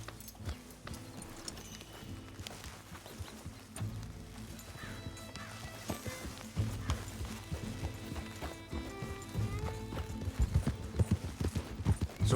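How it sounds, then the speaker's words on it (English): Horse hooves clip-clopping steadily in Red Dead Redemption 2, an even rhythmic beat that grows louder and busier toward the end, with a whinny and faint game speech underneath. "That's a healthy-looking horse."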